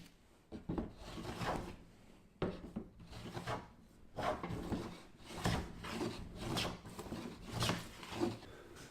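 A Stanley No. 4 hand plane takes repeated strokes across raw wood, each a rasping shave of about a second with short pauses between, close and fairly loud, with no voices.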